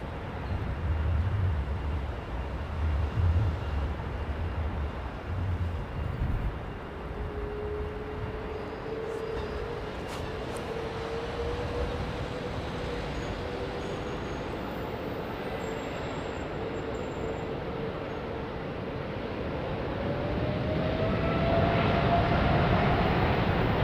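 Airliner engines spool up for departure on runway 09, a loud steady broadband roar with a thin whine that climbs slowly in pitch and swells toward the end.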